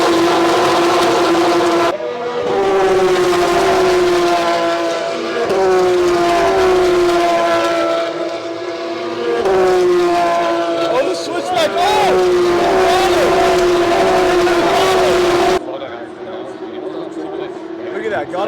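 Formula 1 cars race past loudly, their high engine whines rising and falling through gear shifts, with one car locking up its brakes; a voice talks over the roar before the sound cuts to quieter ambience.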